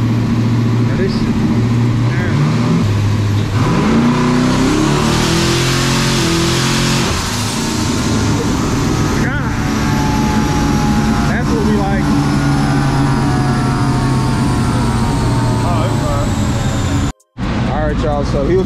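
Boosted Cadillac CTS-V on a dyno, its engine loud and continuous with rising and falling revs, while people talk over it throughout.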